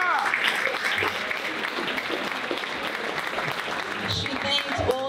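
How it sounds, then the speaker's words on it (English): An audience at a school sports award dinner applauds a speaker, a full, steady round of clapping that runs the whole stretch, with voices and cheers mixed faintly underneath. "Please clap it up for her."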